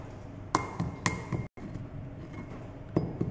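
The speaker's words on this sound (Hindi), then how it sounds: "उसको हम मोटा पेस्टल की हेल्प से क्रश करेंगे" Hard candies being crushed with a heavy pestle for a sulphated ash lab test, several sharp glassy knocks and clinks spaced irregularly, close and fairly loud, with a brief dropout midway.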